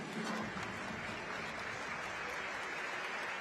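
At a high jump meet in Udine, a stadium crowd claps in a dense, continuous wash of applause to urge on a jumper, even and sustained throughout.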